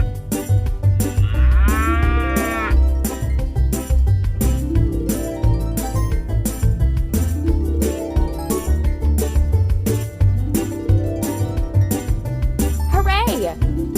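Cartoon cow moos sound twice in a kids' farm game, each over a bright looping jingle melody, with a child-like voice talking throughout and another sweeping tone near the end.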